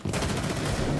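Rapid automatic gunfire in Rainbow Six Siege, a dense burst of sharp shots rattling continuously for about a second, loud and close.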